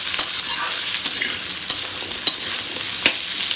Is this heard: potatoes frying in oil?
yes